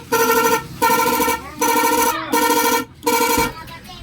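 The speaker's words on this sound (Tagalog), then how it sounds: "Try natin ang busina." A repaired motorcycle horn is tested with five loud, bright honks in quick succession, each lasting about half a second, sounding close and alone.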